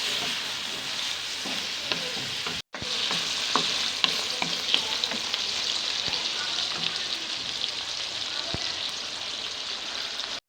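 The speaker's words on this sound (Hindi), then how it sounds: "इनको अच्छी तरह हम फ्राई करेंगे" Bitter gourd (karela) fries in a pan with a steady, close sizzle, and light stirring scrapes run throughout.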